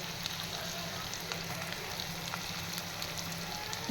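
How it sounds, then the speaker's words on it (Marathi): Chopped onion frying with cumin seeds in a hot tava for tava pulao, giving a steady close-up crackling sizzle throughout with no voices. "आता जिरं छान फुललं. आता मी टाकते कांदा."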